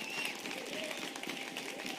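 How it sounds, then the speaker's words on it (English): Applause from an audience at a large business event, a dense continuous patter of clapping with crowd noise, filling the whole moment at an even level with no single voice standing out. "Let's give them an incredible round of applause."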